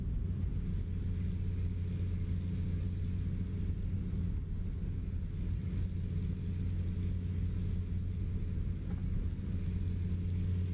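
A steady, deep diesel rumble runs unbroken throughout, low and droning with a faint mechanical growl: a Kenworth W900's mid-range Jake engine brake in American Truck Simulator.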